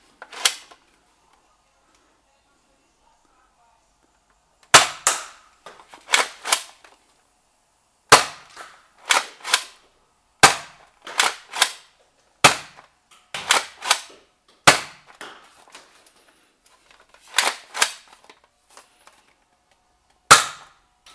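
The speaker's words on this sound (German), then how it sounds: "3 Schuss Rebellendarts und 3 Schuss Elite-Darts zum Vergleich" A Nerf Rebelle Guardian crossbow fires foam darts, sharp snappy shots one after another in small bursts, with short pauses between groups, dry and close with nothing else around.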